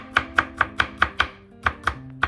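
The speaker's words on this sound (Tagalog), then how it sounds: "Siyempre, hiwain din natin yan. Mas maraming bawang sa adobo, mas masarap." A knife chopping garlic on a board for adobo, with about ten crisp, evenly spaced cuts in a quick rhythm, close and clear.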